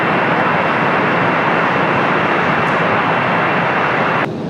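A jet airliner roars in a continuous broadband rumble as it takes off from runway 30 at Washington Dulles on a cloudy day, loud and steady before easing slightly near the end.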